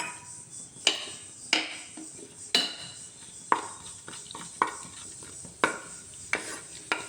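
Fennel seeds crackling in hot oil with curry leaves and green chillies added for a pork dish, sharp pops and clinks recurring every second or so over a low background hiss, close by.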